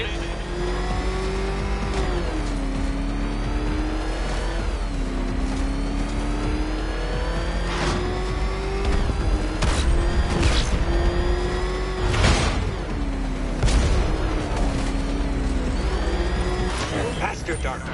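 Engine of the Batmobile in a Batman video game, a steady revving drone that rises and falls across the stretch, with sharp crashes and impacts scattered over it and game music and a voice mixed in.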